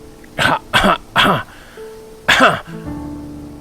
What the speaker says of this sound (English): I had heard bad coughs before, but nothing like that.